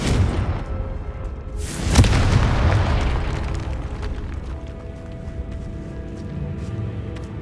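A Confringo explosive spell blast in Hogwarts Legacy detonates with a single loud boom that rolls out into a long rumbling tail, with no voices over it.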